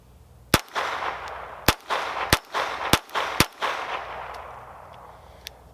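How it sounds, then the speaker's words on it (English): Five sharp shots from a GSG 1911 .22 pistol at an outdoor target range, fired at an uneven pace, each loud crack followed by a short ringing decay, with no talking. "And took 5 shots there at, like I said, about 15 feet away."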